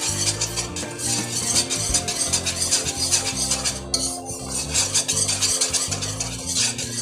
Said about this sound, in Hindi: कुछ चम्मच हिलाते रहे ताकि इसमें लम्स ना रहें।